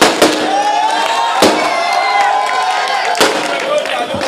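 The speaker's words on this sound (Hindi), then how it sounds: "भैया थोड़ा रुक जाओ, पटाखा मत फोड़ो।" Firecrackers burst near a crowd at an outdoor political meeting, three sharp loud bangs spaced apart over a constant crowd roar.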